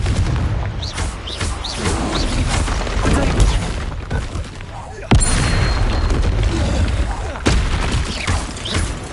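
Confringo explosion spell cast in a Hogwarts video game, heard as repeated loud booming blasts with crackling bursts over a dense, continuous game soundscape, a sharp fresh blast landing about halfway through.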